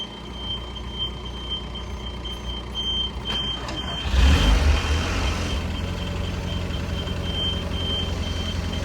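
An Audi TT's car alarm sounds a steady, piercing high tone that persists throughout, briefly joined by a louder rushing burst partway through.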